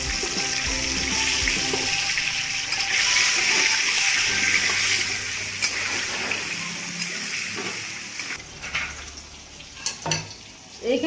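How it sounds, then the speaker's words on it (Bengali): Potatoes sizzle and fry in hot oil with turmeric for Kashmiri aloo dum, a steady close crackle with occasional stirring and clinks of a utensil against the pan, fading toward the end. "আমি দুইবারে আলুগুলো ভাজবো।"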